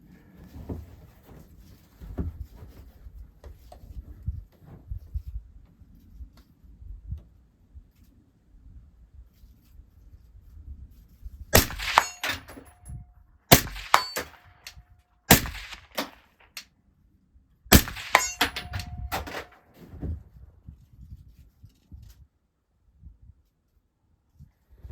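Gunshots at an outdoor range, with rounds striking steel targets at 100 yards: a few sharp, separate cracks spread over a quiet stretch, with faint background noise between them.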